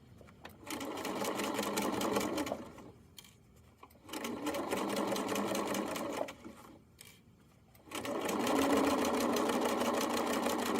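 A sewing machine runs close up, topstitching the bottom panel of a fanny pack. It makes a rapid, steady mechanical whir in three bursts with short pauses between them, and no one speaks.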